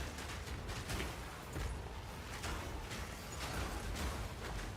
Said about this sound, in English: It is like kind of like a screen-wide explosion.